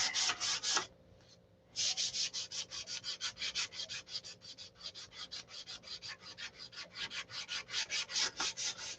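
Steady back-and-forth hand sanding rasps close by in even, rhythmic strokes, pausing briefly near the start before settling into a regular pattern, with no talking.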